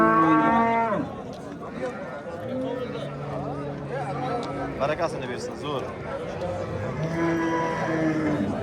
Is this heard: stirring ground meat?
no